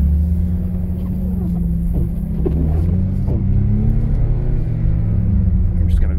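BMW M3 E36 engine droning loud and steady while street drifting on a winter night, a constant low rumble with slight rises in revs, tire and road noise blended in, close and continuous throughout.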